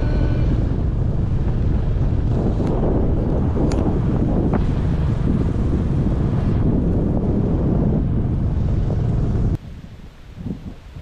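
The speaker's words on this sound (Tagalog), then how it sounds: "Sarap ng simoy ng hangin." Strong wind buffets the microphone in a steady roar for about ten seconds, then drops away abruptly to quiet near the end.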